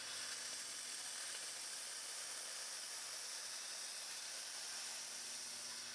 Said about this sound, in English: These steam valves here are proportional. The more you pull them down,